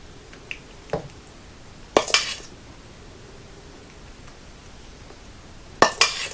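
A spoon scrapes and taps against a bowl and baking cups while sugar-free brownie batter is portioned out, giving a few sharp clinks spaced by quiet pauses.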